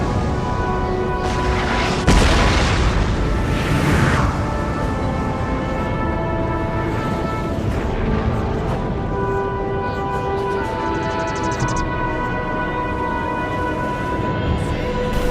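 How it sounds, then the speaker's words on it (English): Howitzer artillery fire in Napoleon: Total War, with repeated heavy booms and rumbling blasts over a dense battlefield din, one sharp loud report standing out early, the roar continuing throughout. "I finally unlimbered my howitzers and are able to return fire."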